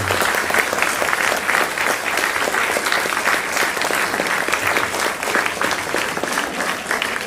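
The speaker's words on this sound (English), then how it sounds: "give a warm applause to your waiters and waitresses" A crowd at a volunteer recognition breakfast for Putnam County, New York claps steadily for the waiters and waitresses, a dense, even wash of applause that carries on throughout without talk.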